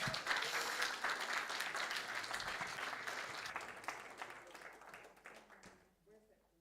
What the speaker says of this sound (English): Another round of applause for all the hard work.